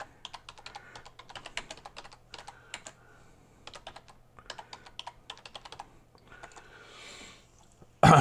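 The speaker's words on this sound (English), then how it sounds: "So if I type in Brigham Young University" Someone types on a computer keyboard in quick bursts of crisp clicking keystrokes with short pauses between words, close and clear, ending with a louder thump.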